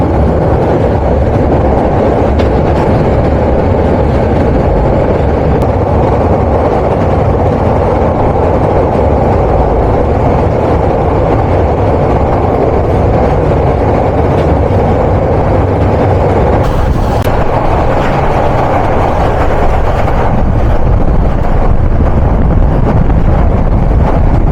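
Rangpur Express passenger train running on rails in Bangladesh at moderate speed, a steady loud rumble and rattle of carriages over track heard from on board, continuous throughout with no talk.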